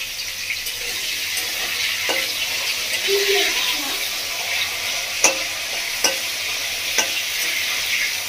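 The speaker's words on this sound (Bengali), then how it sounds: "এবার গাজরটা ভেজে নেবো" Carrot being half-fried in hot oil, a steady bright sizzle running throughout with a few sharp clicks and scrapes of stirring near the end.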